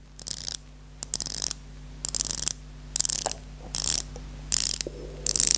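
A Seiko SNJ025 watch bezel is turned in short bursts of crisp ratcheting clicks, about seven quick runs separated by brief pauses, close and clear with no voices.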